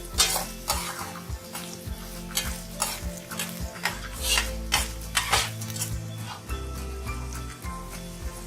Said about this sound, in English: Roast the green chilies.